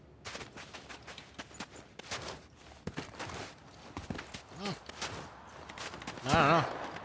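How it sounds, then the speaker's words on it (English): Gunfire in a video game crackles in scattered bursts of sharp shots, some rapid, mixed with footstep-like thuds, with a brief voice near the end. "I hear some gunfire."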